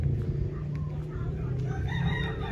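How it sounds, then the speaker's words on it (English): A rooster crows at a moderate distance over a low steady background hum, with faint clucking around it, on the grounds of a 14th-century temple in Ayutthaya, Thailand. "you can hear the chickens"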